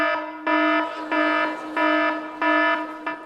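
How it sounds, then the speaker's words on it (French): An alarm clock ringtone beeps in four long, evenly spaced bursts followed by the start of a fifth, loud and clear with nothing else behind it. "Qui a ce réveil matin-ci?"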